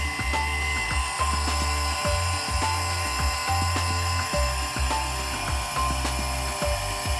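An electric Valvcon ADC series valve actuator drives a valve open, its motor grinding with a steady, close mechanical whir and regular clicking gear pulses repeating about every half second throughout.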